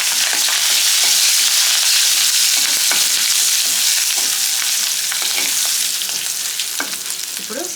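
Curry leaves and dried red chillies frying in hot tempering oil for tomato coriander chutney, a loud continuous sizzle and crackle with occasional spatters and stirring scrapes, close by and without talk.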